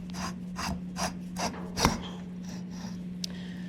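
A piston is worked out of an old tractor pump cylinder with rhythmic scraping and rasping metal strokes, about half a dozen repeated pulls and one sharper clank.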